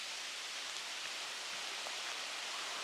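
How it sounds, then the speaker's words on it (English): Steady rain falling in woodland on public land as a storm eases, a soft even hiss of drops on leaves with no voices, constant and fairly faint throughout. "It's still raining, but it's lightening up."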